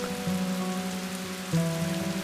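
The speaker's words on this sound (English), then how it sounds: "The rain brings so much along." Monsoon rain pours steadily across India, a dense, even hiss of drops striking surfaces, close and continuous with no voices over it.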